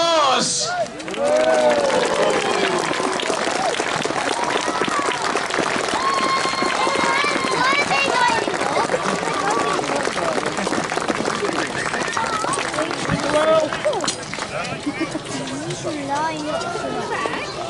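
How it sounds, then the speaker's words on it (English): A crowd at the Historia Normannis medieval reenactment show at Kenilworth in 2019 applauds soldiers with sustained, loud clapping, with cheering and chatter mixed in throughout. "as the soldiers look pretty much ready to march off, we would ask once again for your applause"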